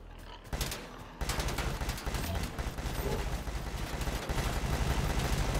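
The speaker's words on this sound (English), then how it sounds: "Now you want to bring out the minigun." A minigun in the Predator Hunting Grounds game rattles off a short burst, then settles into a long, loud, continuous stream of rapid fire with scattered other gunshots mixed in.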